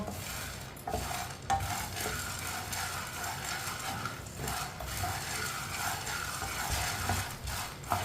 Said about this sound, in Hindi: इसे ऐसे ही चम्मच चलाते हुए गर्म करना है